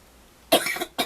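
Two quick, close coughs, the first a short harsh burst and the second briefly following after a tiny pause.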